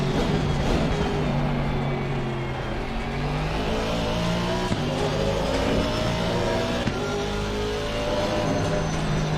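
A race car in a sim racing game revs hard and holds steady high engine tones that climb and shift with gear changes, a continuous loud drone with no speech over it.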